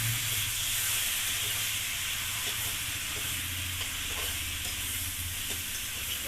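Chicken hitting a hot masala base in a pan, giving a steady, close sizzle and hiss that runs evenly throughout with faint stirring scrapes and no voices.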